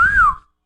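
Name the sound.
person imitating a catcall whistle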